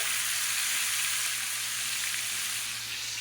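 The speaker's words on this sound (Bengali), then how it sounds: "এটা গরম হয়ে গেছে দিয়ে দিলাম চিংড়ি মাছ" Prawns frying in hot oil in a pan give off a steady, bright sizzle and crackle, loud and close, with no talking over it.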